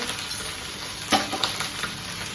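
Cumin and ground ginger sizzle steadily in a frying pan, a continuous hiss with a few louder stirring scrapes in the middle, close and fairly loud.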